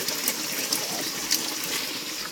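Water flows and trickles in a small stream feeding a reservoir, a continuous close-up splashing babble at moderate level, with no speech.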